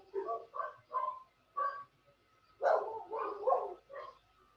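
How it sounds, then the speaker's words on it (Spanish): Dogs bark outside in a series of separate barks, with a louder cluster partway through, heard from a distance through an open window during an online biology class. "¿se escuchan muy fuerte los perros?"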